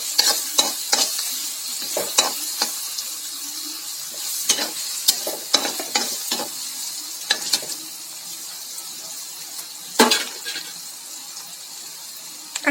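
Green chillies sautéed and stirred in an oiled pan for paneer bhurji, a steady hiss with repeated scraping strokes of a spoon against the pan, one sharper clatter near the end.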